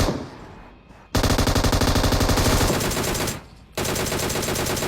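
Automatic gunfire in the mobile battle royale game PUBG Mobile comes in loud, dense rapid-fire bursts: a short lull, then a long sustained stream, a brief break and another long burst.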